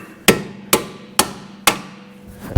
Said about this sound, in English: so you need to take a hammer